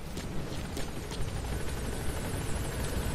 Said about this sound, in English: I need to get on the helicopter first.